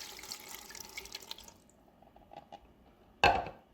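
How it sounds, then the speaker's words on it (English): A cup of cold water poured into an Instant Pot for hard-boiled eggs, a steady liquid wash that thins out midway, then one loud, brief splash near the end. "We're going to use a cup-ish of cold water."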